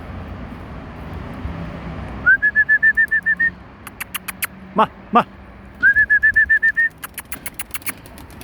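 Pigeons kept by a pigeon fancier call in two rhythmic bursts of eight or so evenly spaced whistling notes, separated by a few sharp clicks and flutters, fairly close with no talk.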